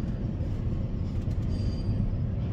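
CSX freight train rolling past, a steady low rumble of heavy cars and wheels on track with a faint brief squeal, continuous and fairly loud without voices.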